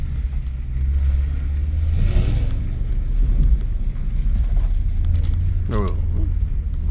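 A Mercedes E63s engine rumbles steadily and revs up and down nearby, with a person talking over it.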